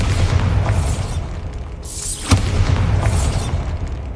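The Bombarda spell detonates in the video game Hogwarts Legacy, heavy rumbling booms with crackling debris, a sharp burst in the middle and a low roar that continues throughout.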